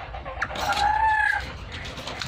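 A black-capped lory parrot at a breeder's aviary gives one loud, drawn-out tonal call lasting under a second, preceded by a short chirp, over steady background noise.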